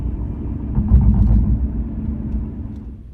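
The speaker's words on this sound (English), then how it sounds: "we are picked up by Emirates chauffeur service in a beautiful 7 Series BMW" A BMW 7 Series chauffeur car heading to Dubai International Airport, heard as a low, steady engine and road rumble from inside the cabin, swelling briefly and then easing.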